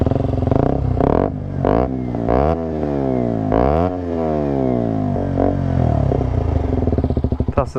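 A KTM RC 125 motorcycle with a 125cc engine revs hard through a full run up the range, its rising and falling engine note loud and close with crisp gear-like sweeps and no talk.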